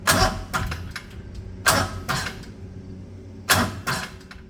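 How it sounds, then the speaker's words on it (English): A 670 cc Predator small engine with its compression relief removed is cranked repeatedly: groaning starter pulls that labor and stall in uneven bursts, loud and close, without the engine catching. "this proved that the starter would have difficulties cranking the engine over without the compression relief mechanism"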